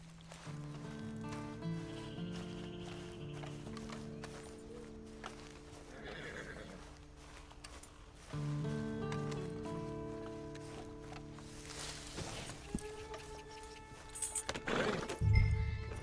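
A horse in Red Dead Online whinnies loudly while hooves clip-clop, set against a steady tonal game soundtrack; another neigh and trotting hooves return near the end.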